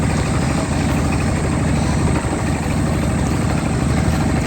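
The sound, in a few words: small river trawler driven by a shallow-pump engine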